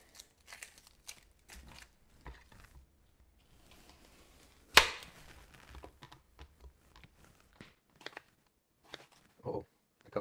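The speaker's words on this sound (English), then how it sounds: "Kind of clean our onions up, cut them up a little bit." A knife cuts up fresh, cleaned onions in short, irregular snips and crunches. One louder crack stands out midway through, with quiet gaps between the cuts and no talking.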